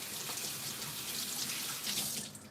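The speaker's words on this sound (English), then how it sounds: "To prevent it from sticking, put some water on your hands." A kitchen tap runs steadily for wetting hands while shaping salmon nigiri, a continuous close hiss of flowing water with no talk.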